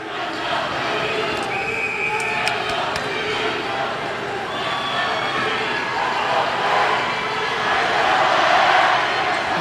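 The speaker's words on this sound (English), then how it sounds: "We got to get this entire crowd quieted down" Crowd noise in a swimming and diving championship arena, a loud, steady roar of many voices and cheers echoing through the natatorium, swelling slightly toward the end.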